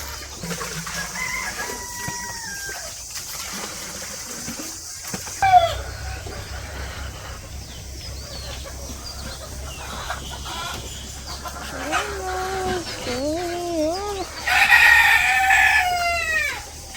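Hens cluck and call repeatedly at close range, with a rooster crowing near the end and a low hum underneath; no talking.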